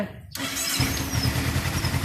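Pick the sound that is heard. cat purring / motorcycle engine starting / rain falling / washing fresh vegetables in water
motorcycle engine starting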